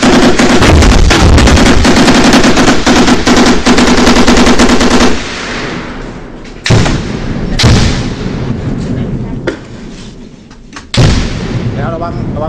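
Machine guns and heavy weapons fire in a dense, continuous barrage during a 2012 Thailand-Cambodia border clash, loud and close for about five seconds, then give way to scattered sharp bursts and booms against quieter background noise.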